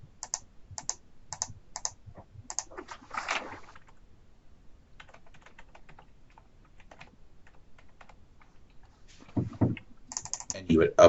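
A computer keyboard is typed on in quick, regular bursts of light clicks, followed by a quieter stretch and then a louder burst of keystrokes and mouse clicks. A voice speaks briefly in the middle.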